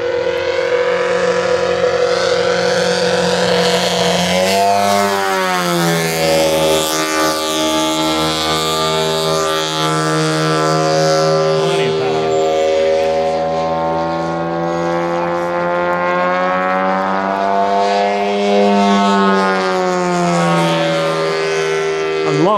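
Gas engine of a giant-scale 60 percent Hempel Extra 260 RC airplane fitted with a muffler, droning loudly and steadily with smooth pitch swings as the throttle rises and falls in flight.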